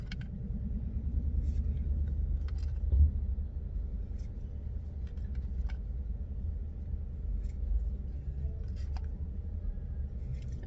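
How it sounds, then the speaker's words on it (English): Steady low rumble of busy street traffic in the background, a continuous distant drone of passing cars with no talking. "I'm sorry for the noise in the background. It's a busy street."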